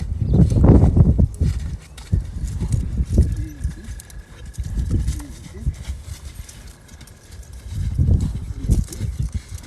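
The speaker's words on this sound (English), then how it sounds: "Circle your horse up." A horse's hooves clop dully on the ground as it walks, in uneven groups of heavy thuds, close by, while people talk now and then.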